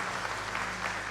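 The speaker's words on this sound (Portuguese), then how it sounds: "Vamos aplaudir Jesus." A church congregation applauds, a steady, diffuse wash of clapping that sounds fairly distant and soft, with a low hum underneath.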